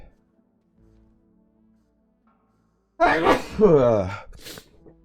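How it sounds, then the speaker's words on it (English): A person sneezes once, loud and close, after a few seconds of near silence, with a short breathy catch just afterward. "Sneeze is coming."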